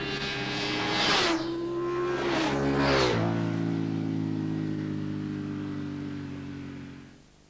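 Motorcycle engine revving hard during wheelies on the road, with several loud surging bursts of throttle and shifting pitch, then a steady drone that fades away at the end.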